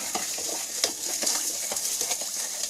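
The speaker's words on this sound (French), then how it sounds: "après on prend la papinette pour touiller" A wooden spoon stirs salted brine for curing black olives, producing soft, faint scraping and swishing strokes repeating in an uneven rhythm against a steady hiss.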